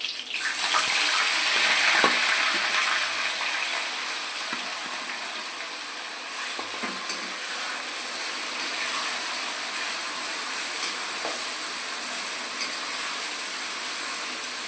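Onions sizzling in hot oil after green chillies for a soya chunks pepper fry, a steady close crackling hiss that holds alone throughout.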